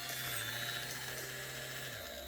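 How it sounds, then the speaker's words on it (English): A small rotary tool fitted with a foam polishing applicator works over the painted body of a Revell Corvette C7.R scale model, giving a steady high-pitched whine that drops in pitch near the end, close and continuous with no talking. "what I'm going to do now with the foam polishing applicator, is I'm just going to go over the paint."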